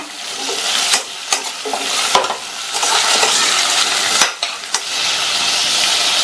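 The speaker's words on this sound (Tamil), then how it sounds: "இந்த முருங்கைக்காயை ஒரு நிமிஷத்துக்கு வதக்கி விட்டுக்கங்க" Cut drumstick pieces with onions and a little salt fry in a pan, hissing and sizzling steadily while a spoon stirs and scrapes against the metal in repeated close strokes, no voices.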